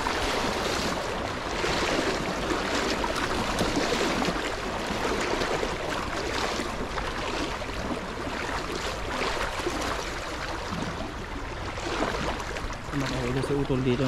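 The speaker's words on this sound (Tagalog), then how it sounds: "Lakas ng agos mga kapengyo." A strong river current rushes in a steady, loud broadband wash close by, unbroken throughout, with a brief low rumble near the end and no clear talk.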